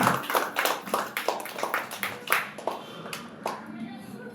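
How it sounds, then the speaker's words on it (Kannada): An audience at a school inauguration claps to welcome a guest: dense, rapid applause that gradually thins and fades, with voices faintly mixed in. "ಎಲ್ಲರೂ ಜೋರಾಗಿ ಚಪ್ಪಾಳೆ ತಟ್ಟುವ ಮೂಲಕ ಅವರನ್ನ ಸ್ವಾಗತಿಸಬೇಕು ಅಂತ ಕೇಳ್ಕೊಳ್ತಿದ್ದೀನಿ"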